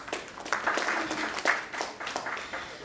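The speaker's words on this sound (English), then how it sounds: "Let us all welcome him with a huge round of applause." An audience at an academic panel session claps to welcome a moderator, a short, fairly dense round of applause with a few voices mixed in.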